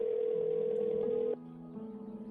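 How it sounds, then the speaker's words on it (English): In the video game Sally Face, a steady electronic phone ringing tone drones on, then shifts to a quieter, lower pulsing tone partway through, with no voices over it. "Pick up the phone, Larry."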